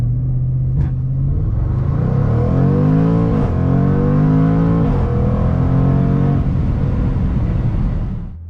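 A 2025 Jaguar F-Pace SVR accelerating hard from a stop, its engine roaring loudly and close with rising pitch through successive gears and brief dips at the shifts, sustained and alone before cutting off at the end.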